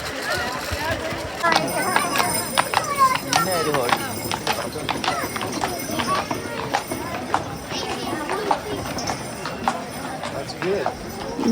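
Horse hooves clip-clop along a street during a Christmas parade, with steady overlapping clops under continuous crowd chatter and talk close by.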